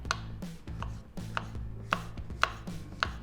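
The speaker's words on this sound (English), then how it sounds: "I've got the mushrooms. I'm gonna slice it up thinly." A knife slices mushrooms thinly on a cutting board, giving about eight crisp, evenly spaced chops with short scraping in between, close and clear with nobody talking.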